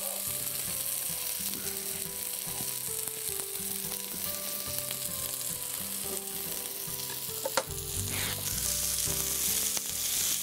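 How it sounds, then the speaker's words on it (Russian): Onions and potatoes fry hard in a pan for Georgian ojakhuri, the onions browning to a crust. A dense, steady sizzle and crackle runs throughout, with occasional scrapes and clinks of stirring and no voices. "Вот здесь мы уже лук жарим достаточно сильно, то есть нам нужна здесь такая корочка."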